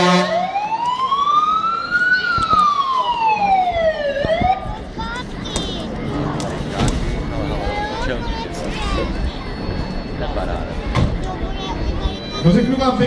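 A volunteer fire brigade's fire engine arrives with its siren wailing in loud rising and falling sweeps, then the siren cuts and the heavy truck engine rumbles on. Crowd noise and voices fill the background.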